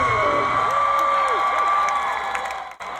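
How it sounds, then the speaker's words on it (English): Thousands of fans cheering and applauding at the Alice 97.3 Now and Zen radio station concert at Golden Gate Park, a dense, steady crowd roar with whoops rising above it, dipping briefly near the end. "is the sound of thousands of fans cheering last Sunday at local radio station Alice"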